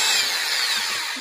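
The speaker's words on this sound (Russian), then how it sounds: "Насверливать буду прямо сверлом," Loud, continuous high-pitched whine of a power drill boring mounting holes for a winter cover on a car's front grille, up close and unbroken.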